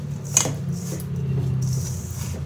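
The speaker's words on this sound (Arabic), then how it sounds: "المهم غنحاول ندخلو هاد الزبدة مزيان هكا في البسكوي" Butter pressed into biscuits in a dish for a no-bake sweet, giving soft squishing and scraping close by with a brief clink of utensil on the dish, over a steady low background hum.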